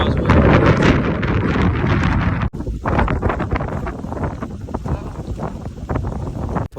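Strong wind buffets a microphone outdoors with loud, rumbling gusts throughout; the roar drops out briefly partway through, then continues in heavy surges.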